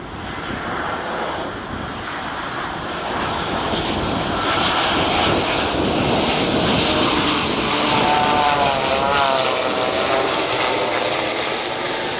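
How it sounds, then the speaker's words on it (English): An American Airlines Boeing 787 flying with its ram air turbine deployed, heard as a loud, continuous aircraft roar with a slowly shifting whine, no voices. "This is an American Airlines flight with its RAT deployed,"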